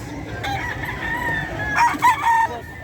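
A bullstag rooster crows loudly and close at an outdoor pet market, a short strained cock-a-doodle-doo near the end over a busy crowd murmur, with some clucking nearby.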